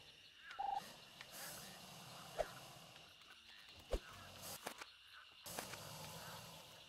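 A turkey in the video game Costume Quest 2 gobbles briefly and faintly, with scattered quiet game noises around it.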